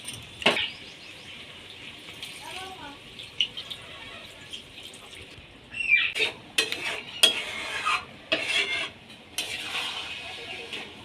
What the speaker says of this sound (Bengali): এবার কিছুক্ষণ নেড়ে নেওয়ার পর সেদ্ধ হওয়ার জন্য আমি জল ঢেলে দেব।